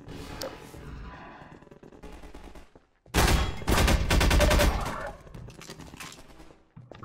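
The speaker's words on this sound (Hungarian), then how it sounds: "De ez a kinti lövöldözés" Gunfire crackles outside in Half-Life 2: Episode One, a busy burst of loud repeated shots and clatter in the middle that swells over lower background game noise, then fades back.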